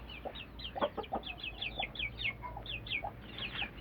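Hens in a chicken coop give repeated short clucks and chirpy calls, moderately near, with low steady background hum throughout.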